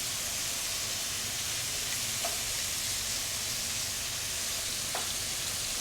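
Garlic chicken shallow-fries in a pan, a soft, steady hiss of oil with a couple of faint ticks, heard up close and alone.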